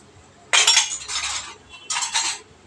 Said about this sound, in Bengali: তেঁতুল মাখিয়ে রাখলে বেশিক্ষণ বাসন মাজতে লাগে না